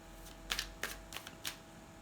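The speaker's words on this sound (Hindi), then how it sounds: "आपके लिए हम कार्ड्स देखते हैं" Tarot cards being shuffled in a few quick, close riffling bursts, each a short papery flutter, with quiet pauses between and no talking.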